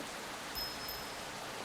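Rain falling outdoors, a soft, steady hiss of drops spread evenly across the whole stretch, faint and diffuse with no distinct individual drops or voices.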